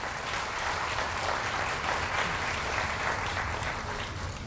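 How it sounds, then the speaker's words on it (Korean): Sustained audience applause fills a hall at a Yongin mayoral candidates' social welfare policy presentation for the June 13 local elections, steady and dense throughout with no break. "모두 큰 박수로 시작을 열어주시기 부탁드립니다."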